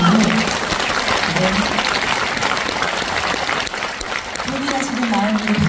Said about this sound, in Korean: 박수를 보내주신 것 같습니다